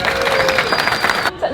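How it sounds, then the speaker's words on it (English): An audience at a live stage event cheers and applauds, with dense steady clapping and whoops throughout, voices mixed into the crowd, before the sound cuts off abruptly near the end. "Let's have another cheer and round of applause"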